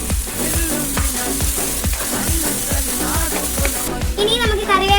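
Green beans for a coconut thoran get stirred in a hot pan, a rhythmic run of close scraping strokes over a steady sizzle, with a high voice breaking in near the end.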